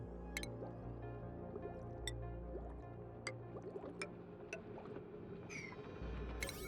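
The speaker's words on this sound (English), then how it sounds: "the water will now flow up into these" Water flowing through pipes in the Oxygen Not Included video game, heard as quiet gurgling and squishy liquid sounds with a few sharp drip-like plinks scattered over a low hum, no voices present.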